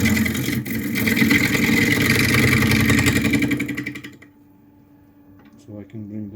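A wood lathe spins at 700 RPM while turning a live edge bowl, giving a steady, loud motor whir with cutting noise that cuts off after about four seconds, leaving near silence with faint sounds.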